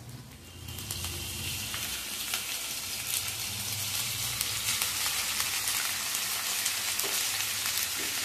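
Dhekia fern greens hit a pan of frying onions, garlic and chili, setting off a loud, steady sizzle with some stirring noise throughout, close up and with no talking.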